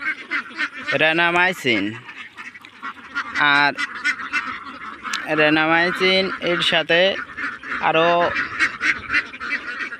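Farm ducks let out several loud, nasal quacks in separate bursts, some in quick runs, with someone talking between and over them.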